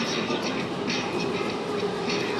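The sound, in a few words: Thai electric train passing fast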